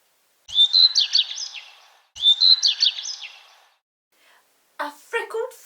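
A whistled, twittering, thrush-like tune in a read-aloud of the children's story Adventures of the Wishing Chair, in two bright phrases, close and clear, followed after a short pause by a brief burst of voice.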